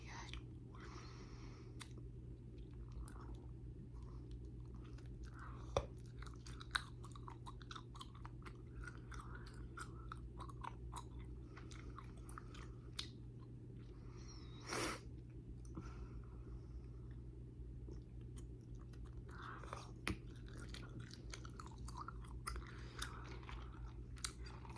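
Close, soft chewing of grape Big League Chew bubble gum, with wet smacks and small crunchy clicks repeating irregularly over a low steady hum, and quiet whispering in places.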